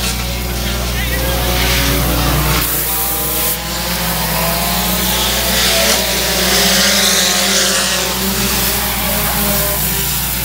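Stock cars racing at Boyd Raceway roar in a loud, continuous engine drone that swells and fades slightly as the pack runs, while a race announcer talks over it.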